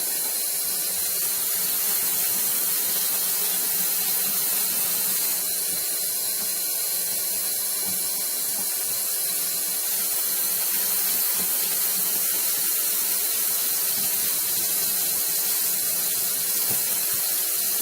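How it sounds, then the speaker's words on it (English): Cold water sprays steadily from a faucet over moss in a tub sink, a continuous broadband hiss with no speech and little change in level. "You're going to get your moss, put it on the cold water, and just spray it like that."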